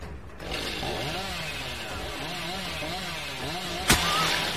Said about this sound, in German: Alter, die Kettensäge.